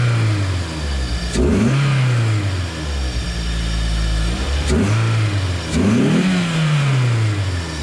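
A Toyota MR2 engine fitted with an induction kit built from scrap parts revs up twice from idle, each blip rising sharply then falling back, loud and close with a throaty intake roar and no talking.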